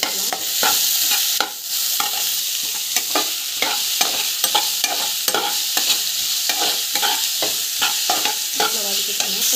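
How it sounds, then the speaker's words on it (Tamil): Onions sautéing with ginger-garlic paste in a pan for a biryani-style dish, a steady close sizzle broken by frequent scraping stirs of the spoon, continuous with no voices. "ஸோ வெங்காயம் வந்து ஆட் பண்ணணும். நல்லா வந்து வதக்கிக்கலாம்."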